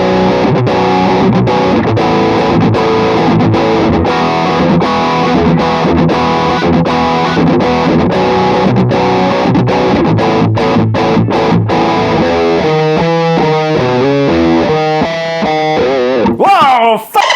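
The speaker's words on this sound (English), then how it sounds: "oh, I want an octave pedal, but oh, I also want a drive pedal" An electric guitar runs through a combined octave and drive distortion pedal, playing a loud, fuzzy riff of rhythmic chugs and sustained chords before shifting into warbling, wavering notes near the end.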